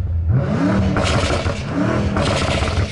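A modified BMW M5 engine revs up and drops back twice, a throaty exhaust roar rising in pitch with each press of the throttle.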